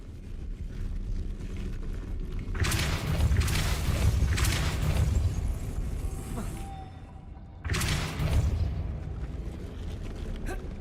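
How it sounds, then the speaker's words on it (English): Spinning mechanism raising a platform in Hogwarts Legacy, two surges of grinding, rumbling machinery that swell loudly and then fade over a low background hum. "Making this spin ought to raise that platform."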